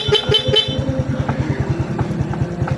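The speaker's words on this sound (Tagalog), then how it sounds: "Loud horn." A loud aftermarket horn on a Honda RS125 motorcycle blares close by, opening with a few sharp toots and then settling into a rapid pulsing honk that repeats evenly with no gaps.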